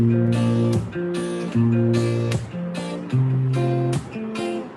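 Acoustic guitar strummed in a rhythmic pattern, chords punctuated by sharp percussive slaps on the strings, close and loud, no voice.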